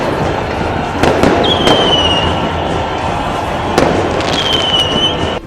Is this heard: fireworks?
yes